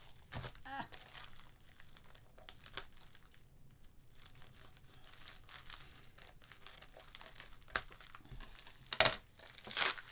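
A paper parcel of AliExpress scrapbooking supplies is crinkled and torn open in close, intermittent bursts of crumpling and rustling, quiet at first and growing louder toward the end.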